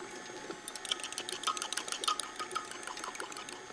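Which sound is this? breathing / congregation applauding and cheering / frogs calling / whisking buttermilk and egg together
whisking buttermilk and egg together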